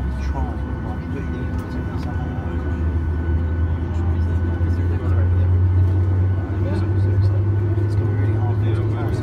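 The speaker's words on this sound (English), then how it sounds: "And the engine's starting." Jet engine of a Norwegian Boeing 737-8JP starting up, heard from inside the cabin as a rising low rumble and whine building steadily under a person talking.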